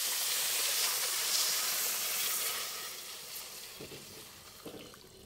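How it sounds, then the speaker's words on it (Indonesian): Coconut milk poured into a cooking mixture in a pan gives a soft, steady rushing hiss that gradually fades, followed by a couple of faint clinks. "masukkan santannya."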